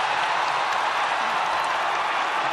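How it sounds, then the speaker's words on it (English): A sold-out crowd at a ONE Championship fight in Manila cheers in a steady, broad roar of many voices and applause, sustained and even from start to finish without pause. "The sold-out crowd in Manila loving every moment of this opening fight."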